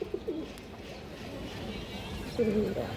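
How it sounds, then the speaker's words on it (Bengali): A male Safchila racing pigeon gives soft, rolling coos, one brief call at the start and another near the end, over a low background hum. "সাপচিলা জোড়াটা মাসাল্লাহ নরের ডাকটা দেখেন কত সুন্দর ঘুরে ঘুরে ডাকে"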